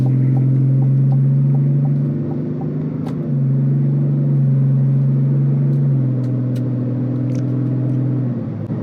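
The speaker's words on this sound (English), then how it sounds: "as we're about to merge onto the highway, I'm going to give it about half throttle, just enough to get up to speed." A 2025 GMC Sierra 1500 Denali pickup with a 3-liter Duramax inline-six diesel pulls at half throttle while merging onto a highway, giving a steady, loud low drone with slight pitch shifts and road rumble throughout.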